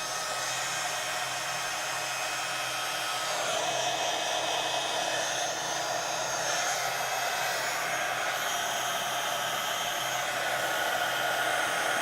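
Heat tool blowing hot air to melt material on a journal page, a steady, close whooshing hiss of airflow with a constant motor whine that runs unbroken for the whole stretch without talk.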